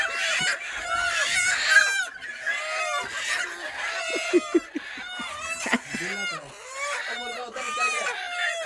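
Hens and a rooster cackle and squawk loudly in alarm while being caught at a home coop, shrill calls tumbling over one another in excited bursts, with a voice briefly heard amid the racket.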